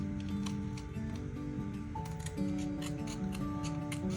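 Scissors snip through folded paper while a Froebel star is trimmed, a steady run of small crisp ticking cuts close by, with no talking.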